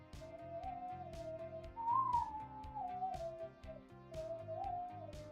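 A person whistles a sustained, wavering melody from a spy theme song over a soft musical backing, one continuous tune that rises and falls.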